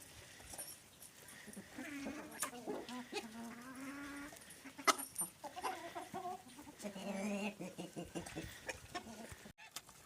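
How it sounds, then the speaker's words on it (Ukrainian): Several chickens cluck and murmur at close range, with turkey calls mixed in over a soft, busy farmyard background. "Курочки з індиками їдять."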